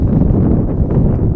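Wind gusts across an outdoor high school soccer field, a brief, loud, low rumbling buffet against the microphone.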